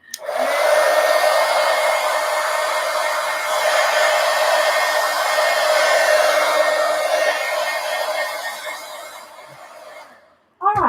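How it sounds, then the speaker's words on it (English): A roughly 25-year-old Marvy Cheetah heat gun blowing, a steady loud whooshing fan roar with a constant whine that runs unbroken for about ten seconds, then cuts off abruptly. "If my heat gun's like 25 years old. It's an old Marvy Cheetah."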